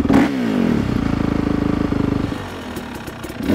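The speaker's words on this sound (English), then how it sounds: "Give it that healthy rev." A dirt bike engine revs hard and holds a steady, throbbing high rev, then drops back toward a rough idle with some clatter, loud and close.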